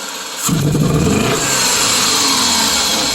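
A 2001 Subaru Legacy engine, running rough and overheating, revs hard at full throttle after a quiet start, holding a loud, steady roar with no talking.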